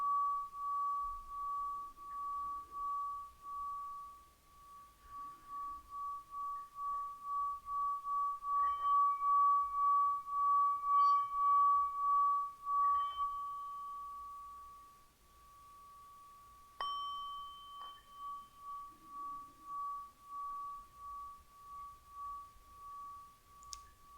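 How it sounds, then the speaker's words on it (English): A singing bowl rings with a pure, sustained tone that swells and fades in long slow waves, with faint taps and soft background sounds. "Listening to the sound of the bowl."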